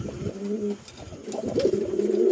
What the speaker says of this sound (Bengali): দেখেন ডাকাডাকি করতেছে খুব ভালো মানের একজোড়া কবুতর লাল কালার